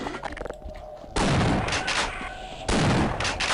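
Loud, dense bursts of gunfire from the Half-Life video game in the alien world of Xen, two long sustained volleys of rapid shots broken by short gaps, with no talking over them.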